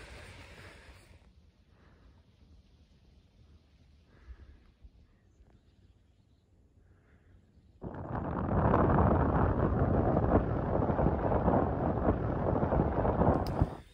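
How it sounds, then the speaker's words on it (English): Wind blows at sea beside a sailing boat, starting as a faint low rumble and then suddenly rising into a loud, steady rushing roar that fills the second half. "So the wind's picking up"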